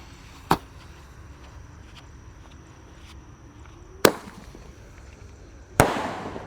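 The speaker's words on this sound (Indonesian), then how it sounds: "Sudah menyala Roman candle 8 watt." Shots from a Roman candle fireworks cake fire outdoors, three sharp isolated pops spaced a few seconds apart over a quiet background, the last followed by a fading crackle.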